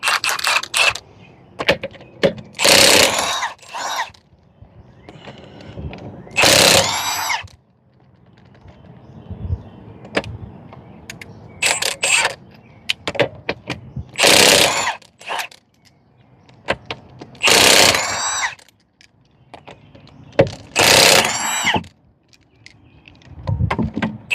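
Power tool spinning off the lug nuts of a Hyundai Sonata front wheel, loud bursts of high whining rattle repeated several times with quiet pauses and handling noises between them, no talking.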